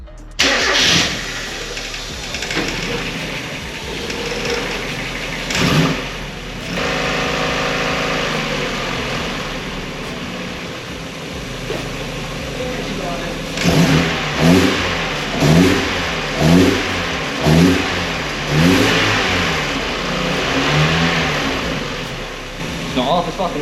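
A Mazda Miata's engine cranks and catches, then idles and revs in a series of rising and falling bursts, loud and close, with a few voices talking over it.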